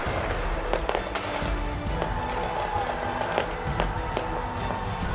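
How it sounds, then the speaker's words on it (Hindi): Fireworks over Auckland, New Zealand, for the New Year 2025 celebration, heard as a steady wash of distant crackles and repeated pops under a continuous crowd-like rumble. "आसमान में भव्य आतिशबाजी का यह नजारा न्यूजीलैंड के ऑकलैंड शहर का है"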